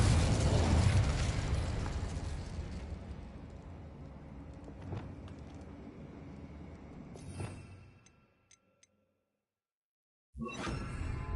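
Confringo blasting spell in the Hogwarts Legacy video game, a roaring fiery explosion that fades into a swooshing rumble, followed by sharper pops, a brief near-silent gap, then another burst.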